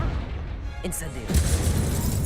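Incendio fire spell cast in Hogwarts Legacy, a short whooshing burst that flares up and then settles into a sustained, loud roar of flame over dense game background noise.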